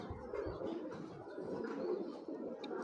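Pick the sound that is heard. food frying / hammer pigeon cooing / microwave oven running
hammer pigeon cooing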